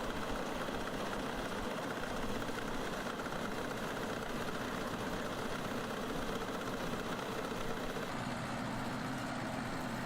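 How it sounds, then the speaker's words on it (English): Two tractors pulling harvesting machinery in a grain field, a steady, rough engine drone with a knocking undertone, continuous and fairly distant, with no talk. "It looks like as if they've got to start with the 2 tractors pulling now"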